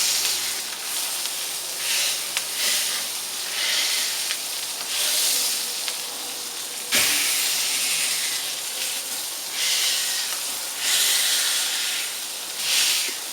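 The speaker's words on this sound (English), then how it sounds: "Now they literally smack the heck out of these things and just sort of smooth them down." Thin burger patties for Cuban fritas sizzle and hiss loudly on a hot griddle as they are smashed flat, the crackle swelling in repeated waves with a sharp scraping thud midway.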